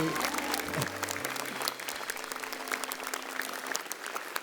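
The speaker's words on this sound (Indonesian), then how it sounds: "Tepuk tangan lagi dong buat MNC." An audience claps at a stand-up comedy show, a sustained crowd applause with a low tonal hum underneath in the opening seconds that fades out while the clapping carries on.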